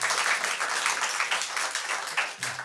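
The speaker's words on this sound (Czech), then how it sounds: "Táňo, tleskáme." An audience applauds steadily at a Czech talk show, dense clapping filling the room from start to finish.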